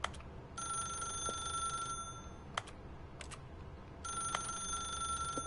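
A telephone rings in The Stanley Parable: Ultra Deluxe video game, two loud electronic ring bursts separated by a pause, with faint background hum and a couple of sharp clicks.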